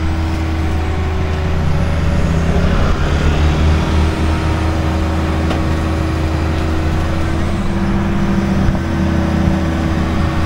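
A truck idles and rumbles steadily at close range while hauling away smelly mud cleared from a street, with a hiss of air brakes and no talk.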